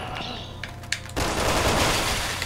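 Gunfire in the video game Resident Evil 6, a few sharp shots early on, then a loud sustained burst of game combat noise filling the rest of the moment.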